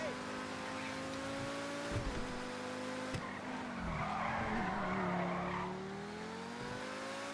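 A Progen T20 supercar in Grand Theft Auto V corners hard, its tyres squealing and skidding over a steady engine drone that dips and rises through the turn.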